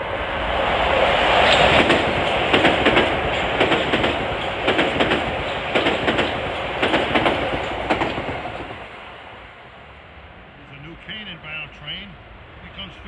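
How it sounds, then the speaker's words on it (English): Metro-North train 1569 from New Haven to Grand Central pulls into a station platform, with loud rolling clatter and rhythmic wheel clicks that fade away, and a voice is heard near the end. "Here comes 1569 from New Haven to Grand Central"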